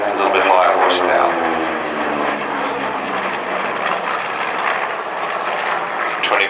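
A P-38 fighter with twin 1600 horsepower Allison V-1710 engines flies past at an air show, its propeller drone loud at first and then easing, with a commentator talking over it.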